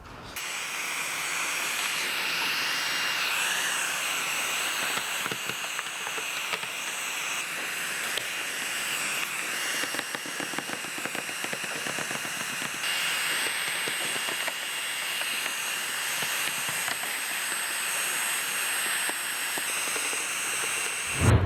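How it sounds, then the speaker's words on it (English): A heat gun post-heats chrome delete film on the side door trim of a 2017 Toyota Highlander, blowing a loud steady airy hiss that runs continuously nearby with slight fluctuations. "just post heat all around each section. That way the adhesive on the film activates and it sticks to the panels."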